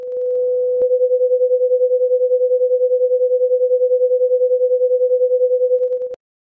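A steady pure tone pulses with a regular, rapid wavering in loudness, a smooth fluttering beat that continues for several seconds before stopping abruptly.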